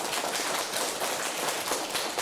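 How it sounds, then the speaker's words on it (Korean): A church congregation at a Wednesday prayer meeting claps together in thanks to God, a dense, steady patter of many hands at moderate distance, without speech. "하나님께 감사의 박수 올리겠습니다"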